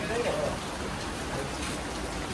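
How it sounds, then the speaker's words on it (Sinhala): Heavy rain pouring steadily outside a boarding house, a dense continuous hiss with no breaks, fairly loud and close throughout. "සැපටම වහිනවා."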